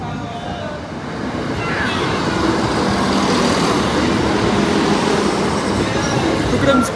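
A train roars past up close at Lincoln High Street level crossing, a loud, sustained rumble of wheels on rails that builds and holds steady.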